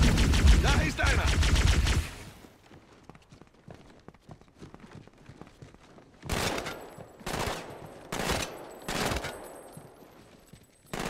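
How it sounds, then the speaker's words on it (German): Rapid automatic gunfire in Halo 2 Anniversary fills the first two seconds at close range. After a pause of scattered faint clicks and steps, four loud separate bursts follow, aimed at an enemy who is already dead. "Warum schießt du noch auf seine Leiche?"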